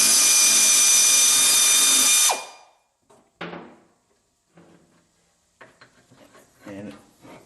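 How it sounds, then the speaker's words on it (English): A power tool whirs loudly and steadily on a truck panel behind the wheel well, then cuts out, followed by scattered knocks, clunks and a scrape as the panel comes loose, with a voice speaking faintly near the end. "There's a little panel here that I'm going to take off that's in back of the wheel well."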